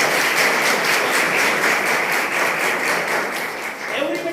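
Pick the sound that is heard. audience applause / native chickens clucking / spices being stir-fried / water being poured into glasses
audience applause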